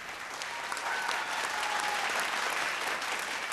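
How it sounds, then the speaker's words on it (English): Applause from the audience at a televised vocal competition show, a thick, continuous patter of many clapping hands, steady and fairly loud throughout with no voices standing out. "A big thank you and round of applause for Colgate."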